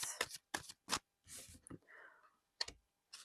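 Oracle cards shuffled by hand in a few quick riffling bursts, close and crisp, separated by short pauses and a soft rustle of cards.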